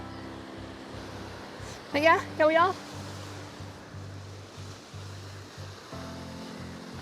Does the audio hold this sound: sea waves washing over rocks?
yes